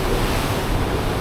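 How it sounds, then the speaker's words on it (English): Steady roar of ocean waves and wind on deck 5 of the cruise ship Odyssey of the Seas, a continuous broadband wash with wind buffeting the microphone, no voices. "looking out at the ocean"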